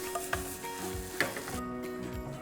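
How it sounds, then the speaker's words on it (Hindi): Soya keema roasts in a pan with little oil, a close steady sizzle overlaid by rhythmic spatula scrapes and light taps as it is stirred. "और अब कीमे की अच्छे से भुनाई होगी"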